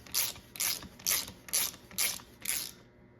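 An oil filter being tightened by hand on a Mercedes E55 AMG, six rhythmic ratcheting bursts spaced about half a second apart, close and fairly loud, then stopping.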